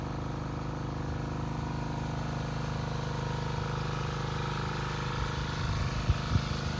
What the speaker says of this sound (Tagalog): Diesel water pump ang gamit namin dito, kaya medyo matipid sa diesel